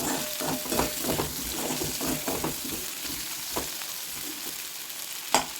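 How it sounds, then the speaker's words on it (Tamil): Raw banana pieces sautéing in hot oil in a pan give a soft, steady sizzle with light stirring scrapes and a sharp clink near the end, fairly quiet with no voices. "இப்படி எண்ணெயிலே நல்லா வதங்கணும்."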